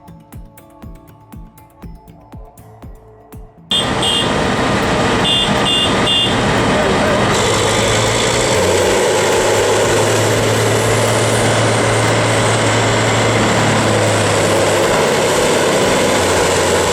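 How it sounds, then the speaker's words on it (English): A TDS 825 dual-shaft shredder crushing scrap, a loud continuous mechanical roar with grinding and a low droning hum that kicks in abruptly after a quieter opening. "The TDS 825's dual shaft system works with a calculated RPM to maximize torque without losing control."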